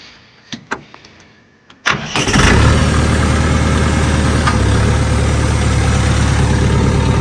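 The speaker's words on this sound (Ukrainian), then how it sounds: "Так, заводимо трактор." A tractor engine cranks with a few short sputters, then catches and settles into a loud, steady idle that runs on without a break, with no talk.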